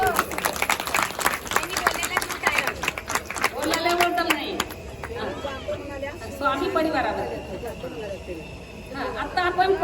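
An audience at a religious discourse in Udgir claps in a steady burst of applause that fades under crowd chatter and a voice, with a fresh swell of clapping toward the end.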